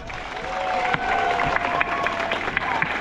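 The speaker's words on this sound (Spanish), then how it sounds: "hay que darle un fuerte aplauso a José Sánchez del Río" A crowd at an outdoor celebration honoring José Sánchez del Río bursts into sustained applause, dense clapping with scattered louder claps and a few cheers mixed in, a voice faintly heard underneath.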